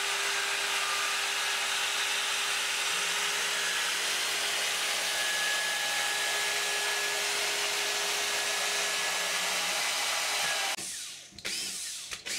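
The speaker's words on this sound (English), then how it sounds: "They're 20 mm holes and cut with a downcut spiral bit." A router with a downcut spiral bit cuts 20 mm holes in an assembly table top, a loud steady high whine that runs continuously before stopping with a few brief bumps at the end.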